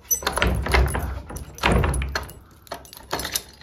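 An old-fashioned wooden village door is opened with a few close, loud knocks and rattles in quick bursts, in a quiet room with no talking.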